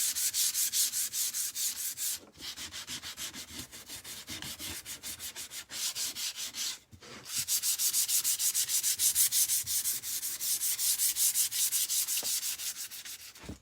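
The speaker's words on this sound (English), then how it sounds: "I'm going to just come in and just kind of lightly or heavily sand over those just a little bit more to bring back some of the wood" Wood is hand-sanded after an orbital sander during a springtime craft project. Rapid, rhythmic rasping strokes sound close and steady, broken by a couple of short pauses.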